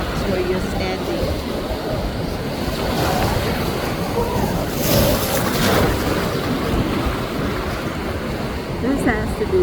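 Ocean waves breaking near rocks on a windy shore, a continuous rough wash of surf with wind buffeting the microphone, swelling around the middle, with a voice talking over it.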